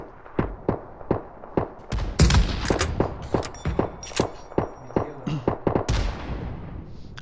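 Rapid bursts of gunfire from PUBG Mobile, sharp cracks and volleys firing in uneven clusters close by, dense and loud, with a louder flurry midway and no talking.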